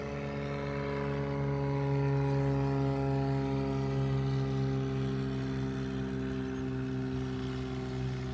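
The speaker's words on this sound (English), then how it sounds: "single engine propellered aircraft taking off from Ogle" A single-engine propeller aircraft takes off from Ogle airport, a steady droning engine hum with strong tonal harmonics holding level and continuous throughout, with no voices.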